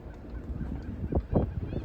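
Geese honk and other birds call along the shore at Port Bay, a few louder honks rising near the end over a steady rush of wind.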